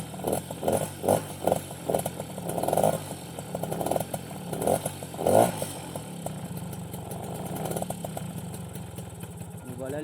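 A small two-stroke engine on an MBK 51 Magnum Racing XR moped runs nearby with a raspy buzz. It blips and revs in several bursts, then settles into an uneven idle, with some talk over it.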